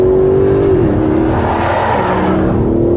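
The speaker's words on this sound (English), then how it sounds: "Sport plus gives me a loud exhaust as well." Aston Martin DB11 in sport plus mode, its turbocharged engine and loud exhaust revving up close, a sustained roaring note with a pitch shift as it shifts and pulls, no talk.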